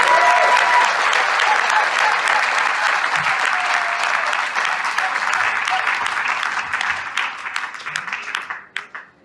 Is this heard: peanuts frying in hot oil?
no